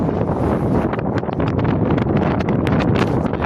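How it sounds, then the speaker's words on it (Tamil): Strong wind buffets the microphone with continuous rumbling gusts at a salt production site, loud and close, with no voices heard. "காற்றடிக்குது."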